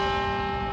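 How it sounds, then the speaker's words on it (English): Large bell ringing like a church bell, heard indoors as a sustained, resonant tone with rich overtones, steady and loud, with no talk over it. "this is like the Notre Dame bell or something"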